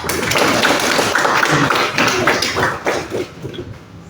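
A classroom group applauds a student, a dense patter of claps that stays loud and steady before tapering off toward the end.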